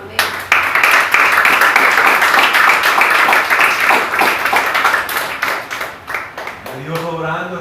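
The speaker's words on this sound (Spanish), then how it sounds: "¿Quién le va a dar un aplauso al Señor?" Church congregation applauding together, a dense sustained wash of many hands that holds steady, then thins to scattered claps before a voice begins speaking.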